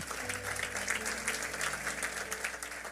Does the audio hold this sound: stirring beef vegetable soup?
no